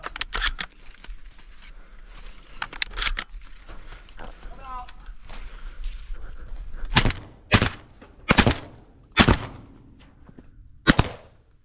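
Twelve-gauge shotgun blasts ring out at pigeons perched on grain bins during a North Dakota pigeon hunt, several sharp loud reports in the latter half, with voices talking and shuffling movement between them.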